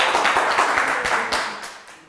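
An audience claps in a short burst of applause at a quiz event, dense and lively at first, then thinning and fading over about two seconds.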